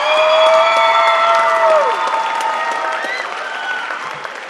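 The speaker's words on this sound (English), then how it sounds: "another round of applause for the evening wear competition" Applause at the Miss Lehi pageant after the evening wear competition, a broad wash of clapping mixed with high rising and falling whoops and cheers that ease off gradually toward the end.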